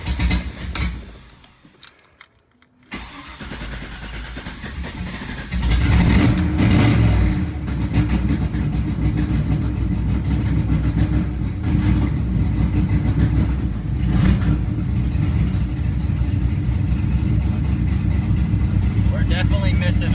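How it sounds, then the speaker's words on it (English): A car engine, just reassembled, misfires on one cylinder and has a leaking manifold. After a quiet start it turns over and runs with a rough, uneven idle, loud and close, with some talk over it. "Definitely still not firing on one of the cylinders."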